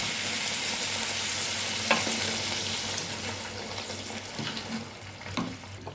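Boiling water poured over Gobindobhog rice and lentils in a pan for bhuna khichuri, a steady hiss and sizzle with a few light stirring clinks and splashes near the end.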